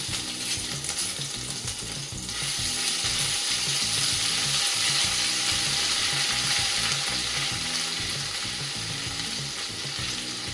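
Ginger, chili and garlic paste frying in hot oil with whole spices, a dense continuous sizzle that swells louder after a couple of seconds and hisses steadily throughout.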